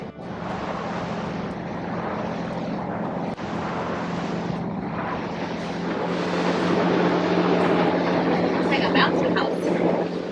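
A small propeller plane drones steadily with a constant low engine hum, close and loud, with a voice talking over parts of it.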